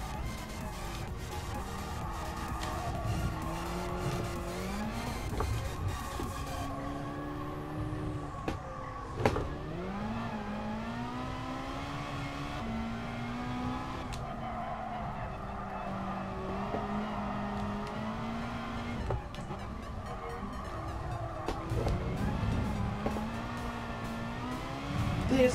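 A race car engine in Gran Turismo Sport during a Ferrari race, droning loudly and continuously with repeated rising pitch sweeps through the gears and a few brief sharper bursts.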